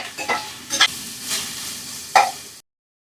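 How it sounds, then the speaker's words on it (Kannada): Onion, capsicum and cabbage frying in oil, a close sizzle broken by a few sharp scrapes and stirring clinks of a utensil on the pan, ending abruptly in silence. "ಈರುಳ್ಳಿ ಕ್ಯಾಪ್ಸಿಕಮ್ ಎಲ್ಲ ಎಣ್ಣೆ ಜೊತೆನಲ್ಲಿ ಚೆನ್ನಾಗಿ ಫ್ರೈ ಆಗಬೇಕು"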